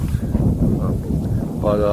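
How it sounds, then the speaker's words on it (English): Steady low wind rumble buffets the microphone throughout on a windy winter day in the desert, with a faint tonal hum rising near the end. "it's been a very windy day here"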